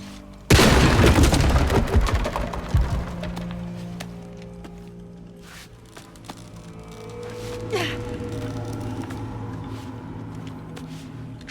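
A shotgun blast in Shadow of the Tomb Raider booms loudly near the start and decays over a couple of seconds, followed by quieter rumbling and shuffling ambience and a smaller thud later.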